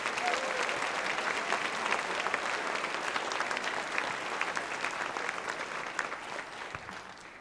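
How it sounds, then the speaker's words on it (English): Audience applause at a book festival author's dinner, a full steady patter of many hands clapping from a sizable crowd, sustained for several seconds and slowly fading toward the end. "Let's give her another round of applause."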